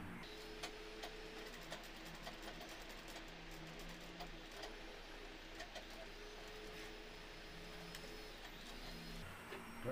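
Sewing machine stitching the seat seam of men's trousers, giving a continuous mechanical whir with fast, even rhythmic ticking throughout, heard close and at moderate level with no voice over it.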